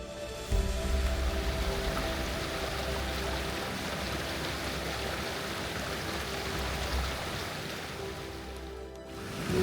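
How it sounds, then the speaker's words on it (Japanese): A large-volume waterfall on the Oga Peninsula roars as a steady, broad rush of falling water, loud and continuous with no pauses, close to the listener and with no voices. "すごく水量の多い滝です。"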